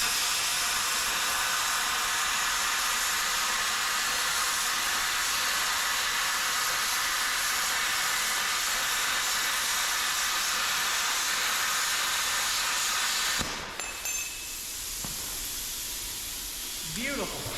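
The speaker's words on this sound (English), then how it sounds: "Let's go ahead and cut some 1/4-inch plate that's not stacked double high." A bestarc BTC500XP plasma cutter slices through 1/4-inch steel plate with a steady, loud hiss and roar for most of the stretch, then cuts off abruptly, leaving quieter room noise with a few faint clicks.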